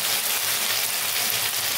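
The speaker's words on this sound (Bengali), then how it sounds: "এখন আমি এটা ভেজে নেব তেলের মধ্যে" Pieces of dhoka, a lentil and green pea cake, fry in hot oil with a dense, steady sizzling hiss, close and unbroken throughout.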